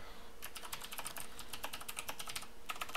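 Quick, close bursts of keystrokes on a computer keyboard clatter in an irregular rhythm, with a short pause near the start and no voices.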